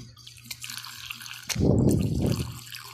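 Water poured into a tarantula enclosure, a few light drips followed by a close, steady splashing pour lasting over a second.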